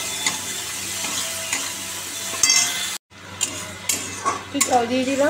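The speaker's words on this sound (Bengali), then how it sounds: "কাঁচা লঙ্কা দিয়ে এটা ভালো করে এখন কষাবো" Green chillies stir-fry in a pan, a steady sizzle running under repeated scraping and clinking of a spatula against metal, close and busy, while someone speaks briefly in Bengali.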